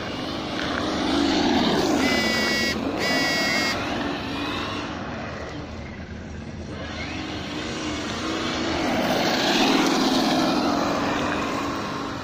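A Losi Baja Rey RC truck on a 3S battery with Proline BFGoodrich Baja 2.2 SC tires, its electric motor whining as it accelerates and fades, with a steady outdoor rush behind it.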